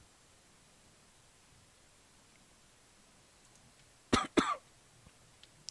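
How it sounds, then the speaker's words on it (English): Two quick, close coughs in a quiet room, followed by faint small noises; a brief word is spoken. "Cough's back."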